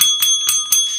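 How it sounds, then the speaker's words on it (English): A bell is struck four times in a steady rhythm, each ring bright and metallic with a short ringing tail, loud and close with no talk over it. "hit please, the bell"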